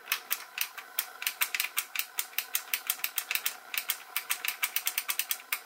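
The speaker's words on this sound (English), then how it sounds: "Very clicky rev trigger response." A Nerf Elite 2.0 Phoenix blaster with a full-auto mod gives rapid, crisp mechanical clicks from its rev trigger. The clicks come close and fairly quiet in a quick, uneven stream, with no voices.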